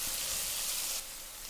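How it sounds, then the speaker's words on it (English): Minced garlic fries in oil rendered from meat, giving a close, steady sizzle that eases slightly toward the end. "Minced garlic in, frying them with oil from the meat."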